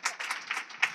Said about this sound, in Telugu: కొట్టు గట్టిగా చప్పట్లో